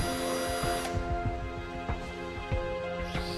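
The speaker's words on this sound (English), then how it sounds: "holes measuring 5 mm in diameter are first of all drilled at each end of the crack" A power drill boring 5 mm holes at the ends of a crack in a damaged plastic car bumper, a steady whining tone with repeated bursts of grinding as the bit bites, close and continuous.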